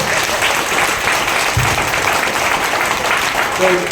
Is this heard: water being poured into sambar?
no